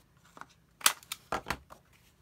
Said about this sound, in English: so I'm going to round my corners here.